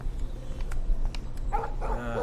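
A dog barks in the video game Life Is Strange, a few short barks close by toward the end over a low background hum, with no talking.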